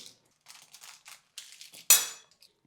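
A metal spatula cuts through crisp, set dry fruit chikki, giving a string of light scraping clicks and taps and then one sharper crunchy crack near the end, with no talking.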